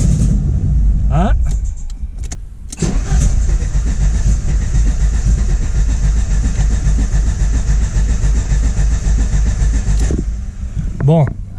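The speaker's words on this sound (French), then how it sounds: "Bon, voyons si elle démarre." The engine of an Alfa Romeo 75 with a starting fault cranks loudly and repeatedly without catching, in long churning bursts at close range, and a voice speaks briefly between attempts.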